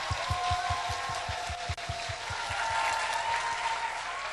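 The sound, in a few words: congregation applauding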